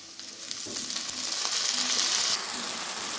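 Ginger garlic paste frying in oil over fried onions for a Kerala-style chicken curry, a steady close sizzle that swells partway through, with a few soft stirring scrapes and no voices.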